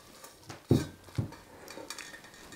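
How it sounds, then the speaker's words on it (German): A thick almond mixture is scraped and spooned into a cold bowl, with a few close clattering knocks of utensil against bowl and softer scraping in between. "Die Mandelmasse füllen wir in eine kalte Schüssel um"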